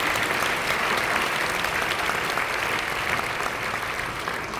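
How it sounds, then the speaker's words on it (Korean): A hall full of attendees at a Korean Holiness denomination gathering applauds visiting church leaders with sustained, even, fairly loud clapping throughout, with no speech over it. "이분들을 위해 뜨겁게 박수해 주시기 바랍니다."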